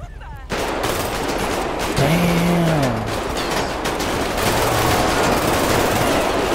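Rapid bursts of gunfire during a gang shootout in the game GTA 5 with the Los Santos Red mod, sharp crackling shots over engine noise and a rising vehicle whine, fairly loud and continuous.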